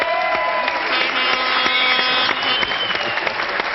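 A studio audience on French television applauds warmly, with steady, dense clapping close and loud that holds throughout with no voices on top.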